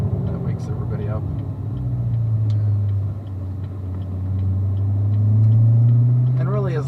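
A car with a stock exhaust drones low and loud from inside the cabin during a ride-along, the engine note swelling and easing as it accelerates, with people talking over it.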